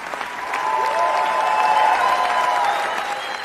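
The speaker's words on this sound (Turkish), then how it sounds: "Film ilk gösterimi sonrası konuklar tarafından tam 11 dakika boyunca ayakta alkışlandı." Sustained applause from a large crowd gives a standing ovation after a film premiere at Cannes, a dense, steady roar of clapping that builds and holds with no talk.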